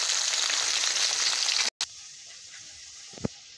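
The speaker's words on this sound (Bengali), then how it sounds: "মাছ ভাজি আমি এখন" Fish fries in oil in a pan with a loud, close, steady sizzle that cuts out abruptly partway through and resumes much quieter, with a brief clink near the end.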